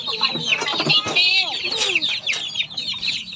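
Hens and chicks at a rural home cluck and cheep close by, with busy overlapping calls and short chirps and no clear talk.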